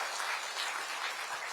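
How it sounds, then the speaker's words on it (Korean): A brief, even burst of audience applause at a book concert, dense clapping from a crowd heard on its own. "박수 한번 치시고."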